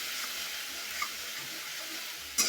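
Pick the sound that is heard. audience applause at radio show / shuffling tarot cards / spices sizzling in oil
spices sizzling in oil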